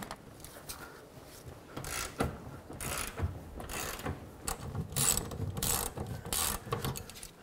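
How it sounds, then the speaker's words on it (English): A ratchet with a 21 mm socket loosens the upper control arm nuts on a 2007-14 Chevy Silverado, giving repeated close clicking bursts in short irregular runs. "21 millimeter socket, remove both of these nuts."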